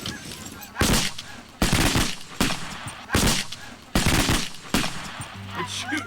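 Shotguns fire during a waterfowl hunt as a series of about six sharp, loud blasts at roughly even intervals, with goose honks and calls in between and faint voices near the end.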